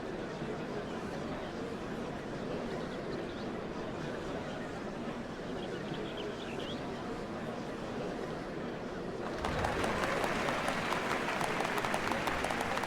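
Crowd applause in Final Fantasy XIV at the changing of the Dawn Servants, with a steady murmuring crowd that swells into louder, denser clapping near the end.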